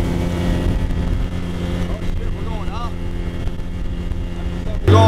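A motorboat engine drones steadily on a river in Colombia, a loud continuous low hum with wind rush throughout and a sharp knock near the end.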